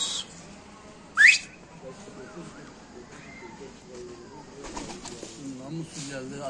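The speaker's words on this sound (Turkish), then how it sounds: "Arkadaşlar damında da kuşlar var." Pigeons kept on a rooftop coo and call in short bursts, with one sharp whistle-like chirp early on; quiet outdoor ambience with faint voices in the background.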